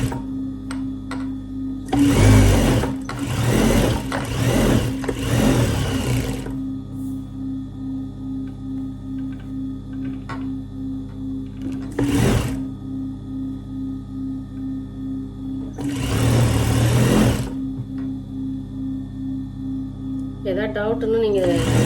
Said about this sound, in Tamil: படிமண் தையல், அதுவும் ஓரத்தையல் தான்.